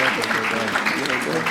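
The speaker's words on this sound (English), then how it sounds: "Let's give them another round of applause" Brief applause from a summit audience for a panel on green industrialisation in Africa, a short dense burst of clapping with voices faintly mixed in.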